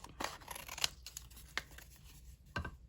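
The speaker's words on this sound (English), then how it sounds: "I will probably take my scissors and just cut them out" Quiet, close snips of scissors cutting out paper address labels, a few irregular cuts with soft rustling between them.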